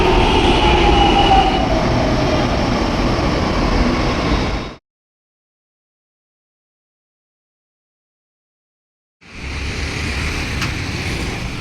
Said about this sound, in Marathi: चला, मेट्रोची वाट बघतोय